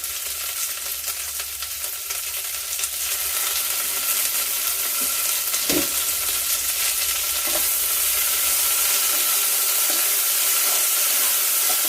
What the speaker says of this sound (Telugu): ఈ ఆకులు అంటే కరివేపాకు, పుదీనా మాత్రం హైలోనే పెట్టి వేయించుకోవాలి.